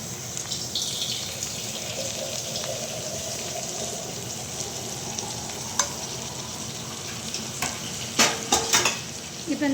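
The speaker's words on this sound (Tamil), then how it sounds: "இதுக்கப்புறம் நம்ம இதில் சிக்கனை சேர்க்க போகிறோம்." Chicken frying in a pan with onion, ginger-garlic paste and dried chillies gives a steady close sizzle, with stirring scrapes and a few sharp utensil clinks toward the end.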